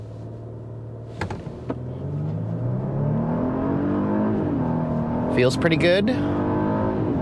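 A 2024 Genesis GV80 3.5T SUV in sport mode accelerates hard from a standstill, its engine note climbing steadily in pitch as it pulls. The sound is close and loud, and someone speaks briefly near the end.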